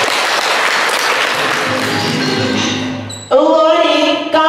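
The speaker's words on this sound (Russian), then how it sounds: "Давайте все вместе дружно похлопаем в ладоши и поздравим друг друга" A crowd claps together at a first-grade school ceremony, a dense, loud wash of applause that fades out, followed by bright ringing tones.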